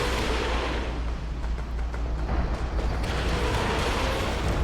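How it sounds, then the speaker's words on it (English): Katyusha rocket artillery in a Company of Heroes 2 match fires with a dense, rumbling roar of launches and booms that stays loud and sustained throughout. "Katusha looks like he's firing again"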